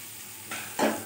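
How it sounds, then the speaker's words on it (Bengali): Rice being lightly fried over low gas with whole garam masala and bay leaves, giving a quiet sizzle and two short scraping stirs in the pan, the second louder. "আমি গ্যাসটাকে কম রেখেই চালটাকে একটু হালকা ভেজে নেব।"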